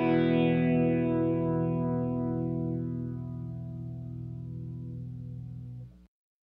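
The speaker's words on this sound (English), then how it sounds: "I chose the AutoSwell effect on the Mobius pedal because it's always consistent, won't add any noise" Electric guitar chord swelled in with the AutoSwell effect on a Strymon Mobius pedal, a single sustained, effect-laden tone that rises smoothly, then slowly fades over several seconds before stopping.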